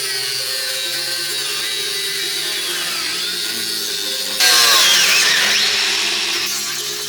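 Power tool cutting the steel transmission tunnel of a BMW E30 body, a steady high whine that jumps louder and harsher partway through as the cut bites, alone without talk.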